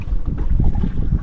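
A fishing boat's engine runs with a steady, heavy low rumble and rhythmic throbbing pulses, close and loud, with wind buffeting the microphone and no talking.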